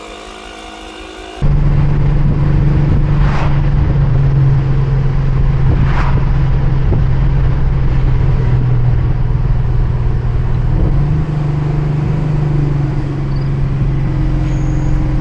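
A Mercedes E63 AMG driving along at low speed, a loud, steady engine and road drone that kicks in after a short quiet start and carries on without a break, with occasional faint clunks over it.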